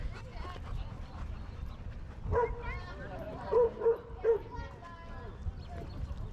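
A dog gives a few yips and whimpering barks, mostly in short bursts partway through, fairly faint beneath steady background noise and a person talking.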